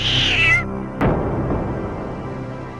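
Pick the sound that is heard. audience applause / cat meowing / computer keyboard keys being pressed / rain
cat meowing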